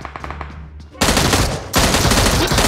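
Automatic weapon fire in the battle royale game BGMI rattles in loud, rapid bursts, with a brief quieter stretch of tones before the sustained shooting starts.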